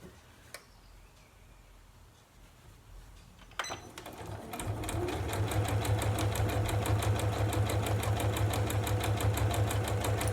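Home sewing machine slowly stitching the thick seams of a fabric storage caddy: a few clicks and a pause, then a steady, rapid mechanical whir with fast ticking, close and clear and without talk.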